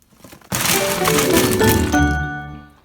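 A tunnel cave-in in the video game A Bug's Life: a sudden crashing rumble of collapsing rock bursts in, sustained and loud, then fades into a ringing tone.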